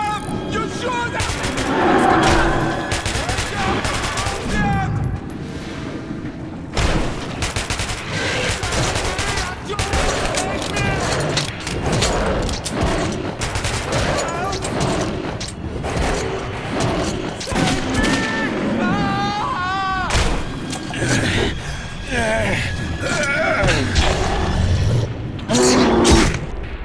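Dense gunfire and explosions fill a frantic firefight in the post-apocalyptic shooter Metro 2033 Redux, with bursts, booms and crashes running continuously and loudly alongside shouting voices.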